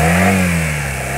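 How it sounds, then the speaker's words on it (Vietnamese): A Honda 209 motorbike with a three-cylinder engine revs loudly and close up, its steady, strong engine note dipping slightly as the throttle eases, with no talk over it. "nó thể hiện một cái động cơ cực kỳ khỏe, không một chút hơi thừa là các bạn ạ."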